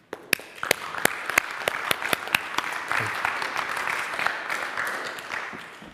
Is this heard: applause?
yes